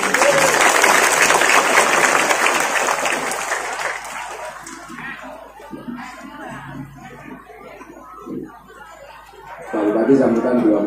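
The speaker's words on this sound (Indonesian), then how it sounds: "Tepuk tangan untuk Pak Bupati." An audience gives a dense burst of applause for the Bupati, the regional head, which fades out after a few seconds. Scattered chuckles and murmuring talk follow, and the applause swells again briefly at the end.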